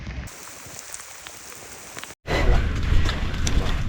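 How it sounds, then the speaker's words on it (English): Heavy rain pours down at the Abusir pyramid complex in Egypt, a dense hiss of drops on stone and ground. It pauses for a moment, then returns as a louder, fuller downpour close by. "We're here at Abusir and it's pouring out"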